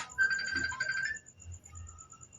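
A mobile phone ringtone chirps a bright, repeating electronic melody during an indoor Bible study, fairly clear at first, then thinning to a faint tone over low background murmur.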